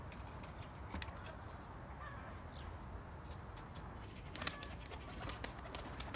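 Young pigeons being released to fly outdoors, with soft pigeon cooing and calls and a few brief fluttery bursts over a steady, rumbling outdoor background.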